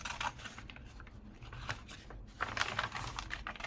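Scissors snip through a paper bag for a junk journal, giving a close run of crisp, irregular cutting crunches and rustles.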